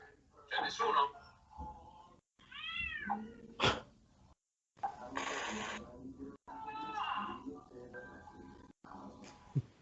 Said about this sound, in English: It's a big freaking cat, man.